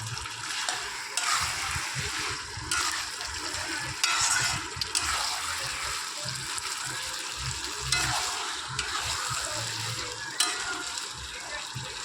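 Chicken pieces sautéed in a pan on a home gas stove, a steady close sizzle broken up by repeated scraping stirs, with no voices.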